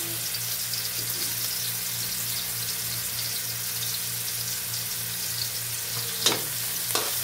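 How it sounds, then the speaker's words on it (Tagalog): Onion sautés in a small amount of oil in a wok, a soft continuous sizzle under a low steady hum, with two brief clinks near the end; no voices. "Magisa pa rin tayo. Konting mantika lang. Konting-konti. Saka sibuyas."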